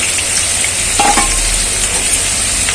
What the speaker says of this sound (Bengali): আলুটা আগে ফ্রাই করে নিই